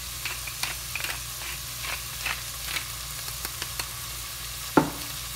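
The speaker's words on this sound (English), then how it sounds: "And just saute it." Meat seasoned with black pepper sautés in a pan for zharkoe, giving a soft, steady sizzle broken by scattered stirring scrapes and one sharper clank near the end.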